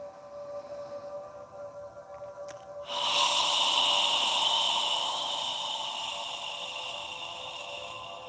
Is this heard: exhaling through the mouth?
yes